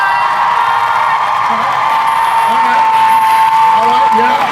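A live convention audience at a Brain Games stage show applauds and cheers in a sustained, loud wash of clapping and whoops, with a voice briefly rising above the crowd.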